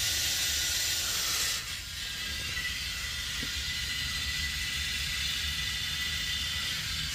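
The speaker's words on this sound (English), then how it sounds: "now we're just going to spray in our fluid" DPF cleaning fluid being sprayed through a compressor-driven nozzle into a van's diesel particulate filter, a steady broad hiss close by with a brief dip partway through.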